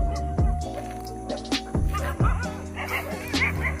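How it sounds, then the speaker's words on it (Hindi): Several dogs bark and yip on an outdoor college campus, with sharp repeated barks and whimpers scattered throughout, fairly close and loud over a busy ambient background. "काफी कुत्ते भी हैं इधर।"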